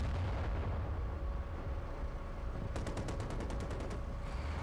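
Gunfire in the World War II shooter Battlefield 1943, a dense, continuous battle din with low rumbling blasts and a quick burst of sharp repeated shots near the end, loud throughout with no talking.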